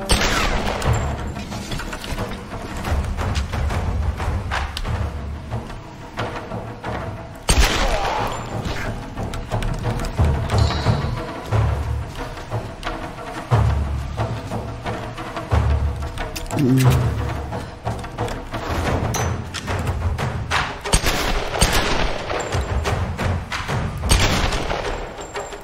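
Gunshots and booming impacts come from the game Tomb Raider. They recur irregularly across a long stretch of combat, loud and close, mixed with crashes, mechanical noises and some spoken voices.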